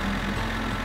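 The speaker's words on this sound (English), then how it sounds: "Start the engine." The engine of a combine harvester in the game My Summer Car runs at a steady idle, a brief close mechanical drone with a low humming tone.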